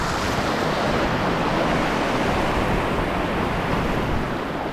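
Steady, loud ocean swell surging against coastal rocks in the Bay of Islands during morning rock fishing, a continuous broadband wash of surf and wind noise with no voices.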